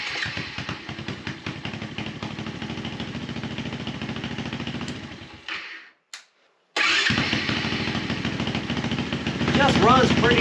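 Chinese Xpro pit bike engine running steadily, a buzzy single-cylinder putter nearby, then cutting out briefly and restarting to idle again with a slight rise in revs; a voice talks over it.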